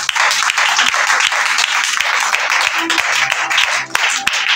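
A church congregation applauding during a Sunday worship service, loud steady clapping throughout with voices mixed in.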